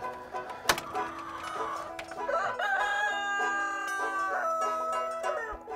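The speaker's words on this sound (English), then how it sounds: "So this is the chicken coop." A rooster crows loudly and nearby in a backyard chicken coop, one long drawn-out call after a sharp knock, with hens clucking softly around it.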